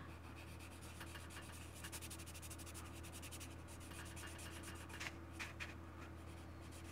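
Fine-grit sandpaper, around 600 grit, rubbed over a model surface chipped with a wax technique, giving a steady, quiet scratchy rasp that continues without pause for several seconds over a constant low hum.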